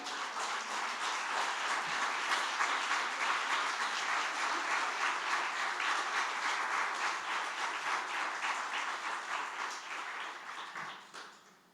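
A church congregation applauds in a sustained, dense wash of clapping that holds steady for about ten seconds before tapering off at the end.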